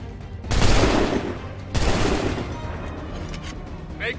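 Musket volleys fired in the video game Assassin's Creed 3: two loud, rolling bursts of massed gunfire, the second following about a second after the first, each trailing off into a dull rumble.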